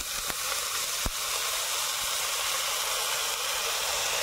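Chopped cabbage frying in mustard oil in a home kitchen, giving a steady, loud sizzle and hiss throughout, with a couple of sharp clicks near the start.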